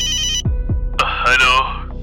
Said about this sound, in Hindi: रोहन कॉन्टैक्ट लिस्ट में रामू काका का नंबर ढूंढता है और डायल करता है।